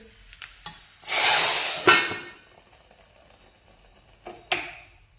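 A sharp burst of sizzling hiss as hot oil tempering hits white Kolhapuri curry (pandhra rassa), fading over a second or two, with a few clinks of utensils before and after.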